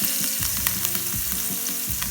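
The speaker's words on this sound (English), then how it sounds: "at this point you straight up add the onions and curry leaves into it" Onions and curry leaves hit hot oil with hing in a pan while frying raw banana, a loud steady sizzle with light stirring scrapes close up and no talk.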